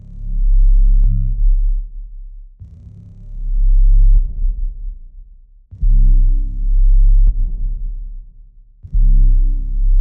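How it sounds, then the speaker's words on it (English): Deep bass hits with a long reverb tail in a music mix, four heavy, evenly spaced booming notes that ring out and decay between each hit, loud and alone. "on some of the bass hits here, I put reverb on the bass."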